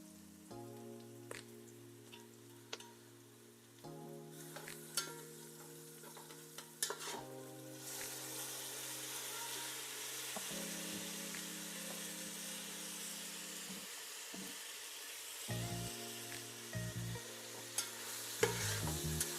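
Tomatoes soften in a pan with onions for a raw cashew tomato gravy curry, giving a faint, steady sizzle with light stirring taps. A low humming tone runs underneath, and no one speaks.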